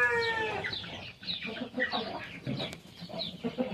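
Several chickens cluck and squawk busily, close by, as they are fed corn on a farm, a dense run of overlapping calls with no talking.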